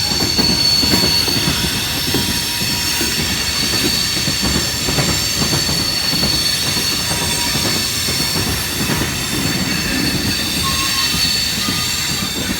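Freight cars of a CSX mixed manifest train keep rolling by in Fostoria, a loud, unbroken rumble near at hand with repeated clickety-clack from the wheels and occasional thin squeals, no voices over it.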